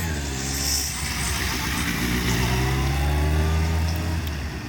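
A motorcycle pulls away during a licensing exam manoeuvre in Longueuil, its engine humming and rising gently in pitch, heard at moderate distance over steady outdoor background noise.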